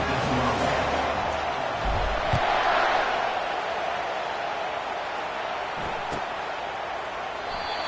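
Stadium crowd noise at a football game, a broad, steady roar of many voices with a few thuds and a brief swell, heard with a commentator talking.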